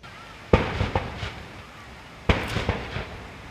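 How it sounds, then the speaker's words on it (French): Two loud booming reports about two seconds apart from a 21-gun cannon salute at a state welcome ceremony with an honour parade at a presidential palace in Uganda, each blast sharp and decaying, with faint crowd noise between. "une parade d'honneur ponctuée de 21 coups de canon"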